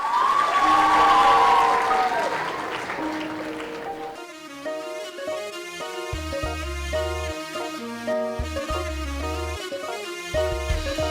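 An audience gives a warm burst of applause for about four seconds as ICG school children come on stage for a regional medley, then the clapping gives way to music.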